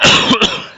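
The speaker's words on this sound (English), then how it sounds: "Coughing." A single harsh cough bursts out close and loud, then trails into a short throat-clearing rasp, all within under a second and with no talk over it.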